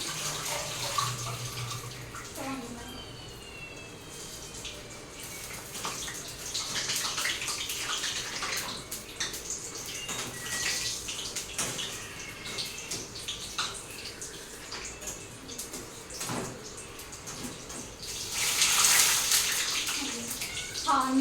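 Water runs steadily from a tap for about twenty seconds while hands are washed under it in a kitchen during bajji cooking, with splashing that grows louder near the end and a voice talking in the background.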